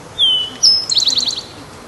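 A bird calls near and clear outdoors in spring: two drawn-out whistled notes followed by a quick run of rapid chirps, with no talk over it.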